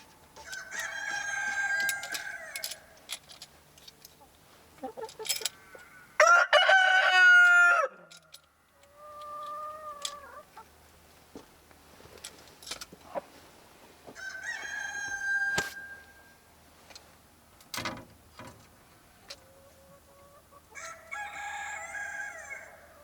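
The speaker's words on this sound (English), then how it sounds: "Oi, bugger off, chicken." Chickens at a backyard coop crow and cluck in repeated bursts, with a loud close crow near the middle and scattered clucks between quieter pauses.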